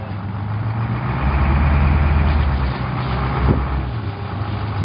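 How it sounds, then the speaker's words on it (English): A farm feed truck at a Southwest Nebraska feedlot idles steadily nearby with a deep, continuous engine rumble, swelling slightly midway. "This is what a feed truck is"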